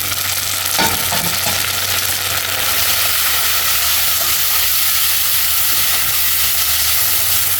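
Onion, garlic and chopped tomato sauté in a pan for Tamil fish kuzhambu, giving a steady, loud sizzle with a few soft stirring scrapes near the start, close up and without any voices.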